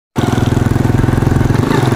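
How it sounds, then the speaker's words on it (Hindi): A motorcycle engine starts and runs steadily in a rural Pakistani village, a loud, close, throbbing idle with an even pulsing rhythm that carries through to the end. "तो हम जी अपने मोटरसाइकिल पर चढ़ चुके हैं"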